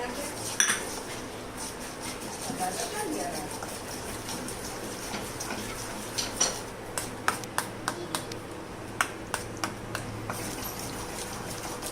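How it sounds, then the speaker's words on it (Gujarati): Spoon clinking and scraping in a pan while paneer bhurji masala is stirred, with scattered metallic taps growing more frequent toward the end over steady background noise and some talk. "હવે આપણે જે તૈયાર મસાલો લીધો હતો પનીર ભુરજીનો એને એડ કરી દઈએ છીએ. સરસ રીતે એને પણ હલાવી લઈશું બરાબર."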